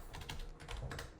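Quick, light keystrokes on a computer keyboard, a run of soft irregular clicks heard close and alone for a moment with no talking.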